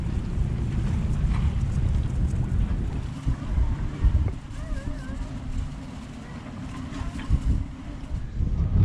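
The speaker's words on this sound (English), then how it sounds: "You can hear me over the wind noise." Strong wind of about 30 knots roars across the microphone aboard a sailboat passing through a gap, a steady buffeting rush with water and hull noise beneath and a voice faintly heard under the gusts.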